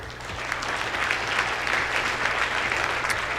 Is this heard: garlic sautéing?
no